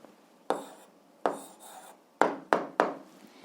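Pen or pencil writing an algebra answer by hand on paper, five short scratchy bursts of strokes with brief pauses between them, close and fairly quiet.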